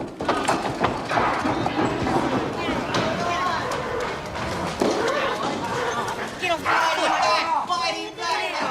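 A big horse, Happy Harry's, moves in a dusty Western setting, hooves thudding and clattering irregularly beneath loud shouting voices, with scuffling and an occasional whinny-like sound mixed in.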